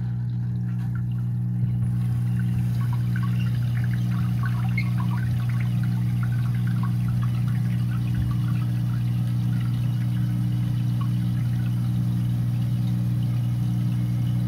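Toilet tank refills through a new Fluidmaster fill valve, a continuous close hiss of rushing water with a steady low hum running unbroken throughout, and no talk.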